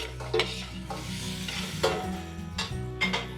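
Pork picadillo sautéing in a pan, a steady close sizzle and frying hiss with periodic scraping stirs of a utensil against the pan, no voices.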